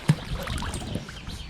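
Someone climbs into an inflatable kayak floating on water, giving a brief close splash and rubbery bump followed by soft sloshing and dribbling water for about a second.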